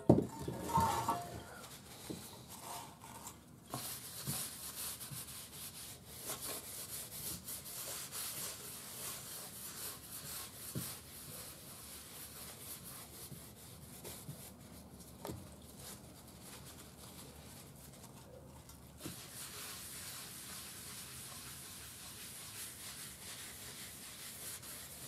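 Steady scrubbing and rubbing as old lacquer is worked off the wooden cabinet of a 1930s Dewald radio, a soft continuous abrasive hiss at close range with a few sharper scrapes, no talking.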